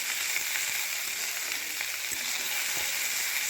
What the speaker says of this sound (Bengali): ধুয়ে রাখা লাউয়ের খোসাগুলো আমি এবার তেলের মধ্যে দিয়ে দিচ্ছি